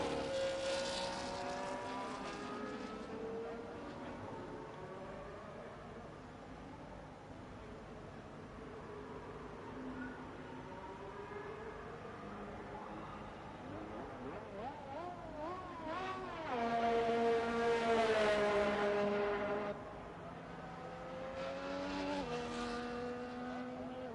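F1 race car engines in the F1 24 game at the Austrian Grand Prix scream and rise through the gears, with several cars revving and passing, one surging louder up close before fading.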